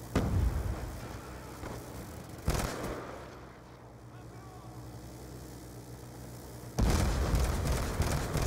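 A concussion grenade goes off in the Black Ops II video game, a sudden broadband boom that cuts off the background, then a dull muffled stretch before loud noise surges back; game voices are heard.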